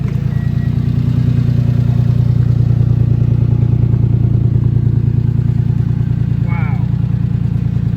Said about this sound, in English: Actually has a nice gurgle to it. It doesn't sound bad.